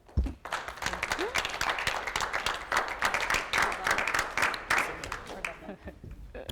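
Audience at a university colloquium breaks into applause for two presenters, with brisk, moderately loud clapping from a modest crowd that builds quickly and then begins to thin out.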